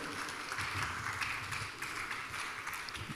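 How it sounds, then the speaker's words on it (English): An audience at a debate event applauds with continuous, moderately distant clapping that stays fairly even throughout. "Continue with the round of applause until he's standing here for his citation."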